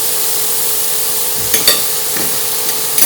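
Onions hit hot oil in a pan and fry with a loud, continuous close sizzle, broken by a few brief scraping stirs.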